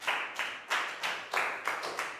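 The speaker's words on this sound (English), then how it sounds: "Big round of applause for Pakbung." A small group of people clapping in a classroom for a student, a few short bursts of hand claps in uneven rhythm, close and fairly quiet, with no talking.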